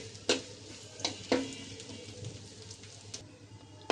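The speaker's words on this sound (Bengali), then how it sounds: "পেঁয়াজটা ভালো করে ভেজে নেব, ডালতে দিব বাগার।" Chopped onions, with garlic, sizzle in a pan for a lentil tempering, a faint steady frying hiss broken by a few sharp clinks and scrapes of stirring.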